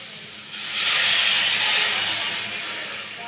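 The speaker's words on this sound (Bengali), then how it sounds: "এবার আমি এর মধ্যে জলটা ঢেলে দিচ্ছি।" Water poured into a hot pan of mango (amra) chutney bursts into a loud steaming hiss after a brief quiet moment, holding strong for about two seconds before easing slightly, with no talking.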